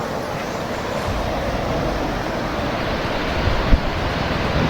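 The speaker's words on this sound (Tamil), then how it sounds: "இதோ வாட்டர் ஃபால்ஸ் கிட்ட வந்தாச்சுங்க." Steady broadband roar of a waterfall near a bridge in Munnar, continuous and fairly loud, with a brief thump near the end and no talking.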